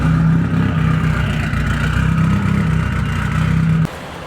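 A car engine warm-starts and runs at a loud, steady idle with a slight clattery pulse, then shuts off abruptly near the end, leaving a quieter hum; no talk.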